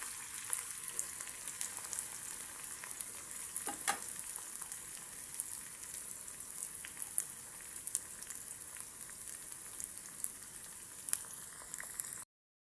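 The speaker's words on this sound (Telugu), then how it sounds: "ఇలా చిటపటలాడుతూ ఉన్నప్పుడు కట్ చేసుకున్న ఎర్రగడ్డలు మొత్తం అన్నీ వేసేసుకోండి." Chopped onions, curry leaves, dried red chillies and garlic sizzle and crackle steadily in hot oil for a brinjal and okra sour curry, a close, even frying hiss with occasional sharper pops.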